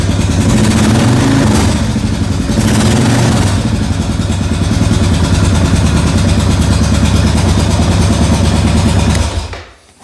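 A Kawasaki KLR 650 motorcycle fitted with a Leo Vince X3 muffler carrying its quietest baffle idles steadily and loudly up close, a deep even thrum that runs unbroken before cutting off abruptly near the end.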